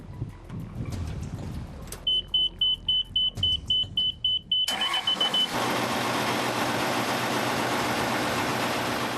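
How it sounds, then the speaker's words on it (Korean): A boat engine at a fish farm starts up after a burst cooling hose is replaced, following a series of rapid electronic beeps, then settles into a loud, steady running drone. "시끄러운 엔진 소리가 이렇게 고마울 수 없다."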